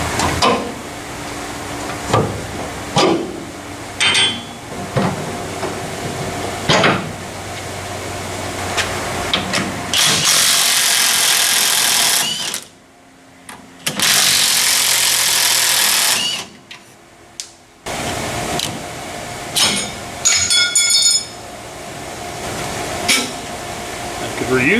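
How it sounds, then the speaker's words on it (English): An air hammer rattles in loud, rapid bursts against metal, cutting off rivets on a Ford F100 truck, starting and stopping repeatedly, with a long hissing, hammering stretch in the middle. "slot my rivets to make them easier to cut off with an air hammer or air chisel"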